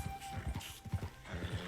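A horse in Red Dead Redemption trots with rapid, soft clip-clopping hoofbeats in a steady rhythm, heard faintly under quiet ambient game sound.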